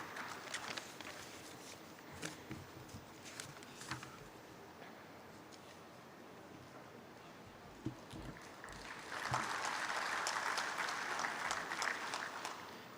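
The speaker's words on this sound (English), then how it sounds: "Could we have a huge round of applause from the audience, please?" Audience applause at an alumni felicitation ceremony in Srinagar, starting as scattered, thin clapping and swelling into fuller, louder applause near the end, heard from within the hall.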